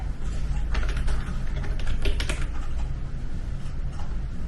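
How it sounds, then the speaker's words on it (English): Keyboard typing and mouse clicking at a medical coding workstation, rapid irregular clacks and taps over steady low room hum, continuous and close, with no talking. "If you hear other clicking of the mouse and typing on the keyboard."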